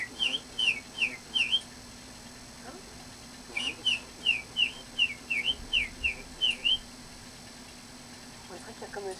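A person whistles a string of short, rising-and-falling birdlike phrases in two bursts, mimicking a tanager's song, with a quiet pause between and faint background hum.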